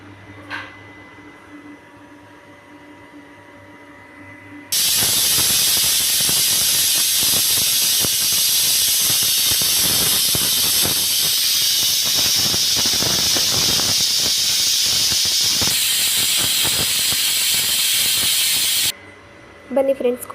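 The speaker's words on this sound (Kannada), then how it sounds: "ಕುಕ್ಕರ್ ವಿಜಿಲ್ ಹೋಗಿದೆ" A pressure cooker cooking fenugreek rice bath lets out one loud, sustained hissing whistle of escaping steam. It starts abruptly, holds steady for about fourteen seconds and then cuts off, with quiet kitchen background before and after.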